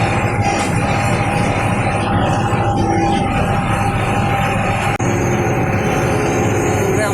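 A tractor engine runs steadily while driving, loud and noisy, a continuous low droning rumble throughout with a brief dip near the end.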